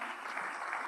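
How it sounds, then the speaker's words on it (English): Steady round of applause for conference panelists at an engineering event in Ghana, a dense even wash of many hands clapping at moderate distance, continuous throughout with no gaps. "Please give them a round of applause."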